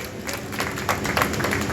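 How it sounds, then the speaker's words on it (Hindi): Applause at a swearing-in ceremony of a Delhi grain merchants' association, greeting a newly elected president: a brief burst of crowd clapping that swells midway and then holds steady. "उनके लिए जोरदार तालियां"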